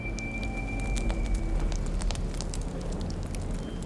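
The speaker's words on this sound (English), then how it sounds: "the only sound being the crackle of the fire" A fire crackles steadily, with sharp pops and snaps scattered over a low, constant rushing hiss, close and fairly loud.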